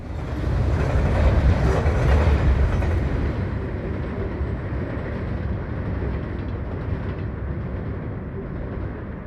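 A freight train, the 20K, rolling past on the rails as it accelerates back to a track speed of 50, with a loud, steady rumble and rattle of wheels and cars that eases slightly as it continues.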